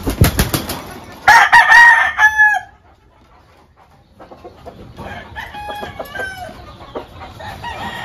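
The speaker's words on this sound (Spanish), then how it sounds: "Muy buen gallo" A tall, active rooster crows loudly and close at the start, then clucks and calls more quietly in short bursts after a brief pause.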